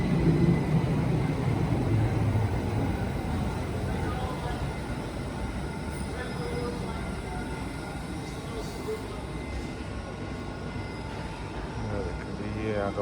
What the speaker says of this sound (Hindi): तो ट्रेन आ रही हैं